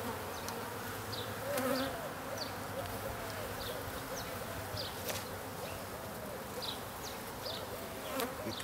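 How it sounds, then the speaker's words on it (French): Honeybees buzz steadily around a hive frame of stored pollen being lifted out, a continuous faint drone with individual bees zipping past close by and a few soft clicks of handling. "Et quelques abeilles."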